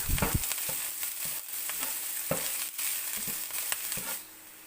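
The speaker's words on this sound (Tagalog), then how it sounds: "Saute, saute." Egg fried rice with spring onions or chives sautéing in a pan, a steady loud sizzle broken by repeated scraping stirs of the spatula, close up with no talking.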